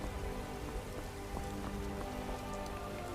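Steady rain pours in the video game Skyrim near Dragon's Reach, a dense, even hiss of drops spattering on surfaces at moderate loudness, with no voices.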